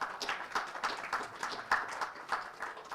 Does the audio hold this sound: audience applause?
yes